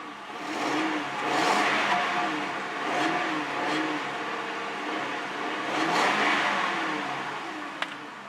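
A taxi car engine with a slight misfire, likely from a failing coil pack, runs and revs steadily nearby, a continuous mid-pitched drone with gentle rises and falls and one sharp tick near the end.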